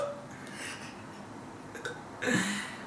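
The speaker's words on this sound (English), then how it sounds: "We're gonna start off with normal burps," Small, quick, ordinary burps, faint and close, a couple of short gulps with a brief stronger one near the end, no talking.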